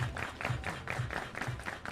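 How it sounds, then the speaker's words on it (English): A crowd at a collegiate summer-league baseball game clapping in a steady rhythmic beat, about two claps per second, moderately loud with faint crowd murmur. "Everybody clap your hands."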